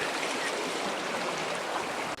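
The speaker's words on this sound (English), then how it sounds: "look how quick the river's actually flowing through there" A fast-flowing river rushes past the Dovedale stepping stones in a steady, loud, broadband wash of water that holds constant throughout, with no voices.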